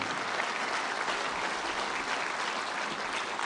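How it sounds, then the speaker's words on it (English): Steady, sustained applause from a crowd greets the Italian prime minister at a formal gathering, dense and even from start to finish, without speech over it. "Applause for Prime Minister Melaoni."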